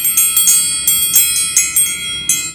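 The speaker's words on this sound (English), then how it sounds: "These are called elephant bells from India." Brass elephant bells from India shaken close by, producing a loud rapid series of bright metallic jingling strikes with sustained shimmering ring between hits, alone without speech.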